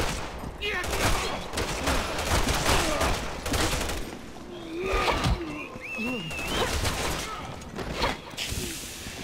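Gunfire from the video game Resident Evil 6, a dense fusillade of shots and bursts layered with whooshes, creature growls and game effects, steady and loud throughout with a few voices mixed in.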